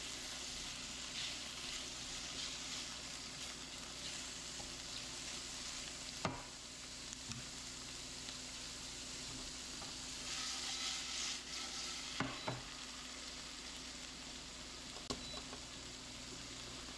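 Food cooking down in a hot pan over high heat, a soft steady sizzle at low level with a few sharp clicks and utensil knocks scattered through.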